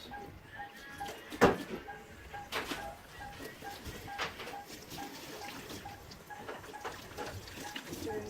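Tap water runs steadily at low level during a sterile hand scrub, with a few brief splashes and knocks over the flow.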